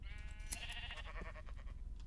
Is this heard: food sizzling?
no